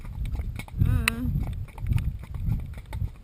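A horse's hooves clip-clop in an uneven walking rhythm while a young horse is ridden out in loose side reins, close and clear, with a person talking over the steps throughout.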